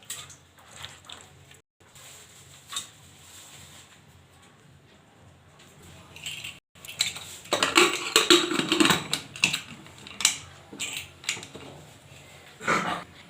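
Raw mutton pieces dropped into a pressure cooker with yogurt, giving close, soft wet squishes and metallic clinks and scrapes, busier in the second half, with no talking.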